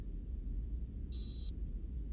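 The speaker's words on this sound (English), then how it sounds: "And now we wait for the beep." A single short, clean electronic beep from an ear thermometer, close and clear over a quiet, low background hum.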